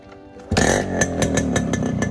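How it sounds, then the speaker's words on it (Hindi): A 1992 Yamaha RX100 motorcycle engine catches after a half kick and settles into a loud, close, rapid putter with a steady rhythmic idle. "एक किक नहीं हुआ, आधी किक में स्टार्ट है"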